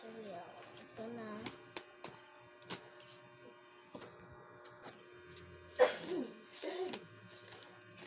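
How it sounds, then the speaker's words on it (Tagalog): A woman coughs a few times at a distance, brief harsh bursts among clicks and tapping, with some speech nearby. "si mama yun, umuubo."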